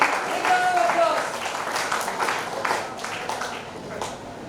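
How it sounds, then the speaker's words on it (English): An audience at a software hub launch event claps in a scattered round of applause, moderately loud and fading gradually, with voices talking over it. "Big round of applause"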